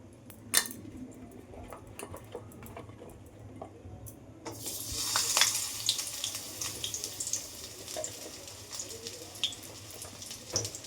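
Pointed gourd pieces go into hot oil: after a few faint clinks and taps, a bright steady sizzle breaks out halfway through and keeps crackling on its own, close and moderately quiet.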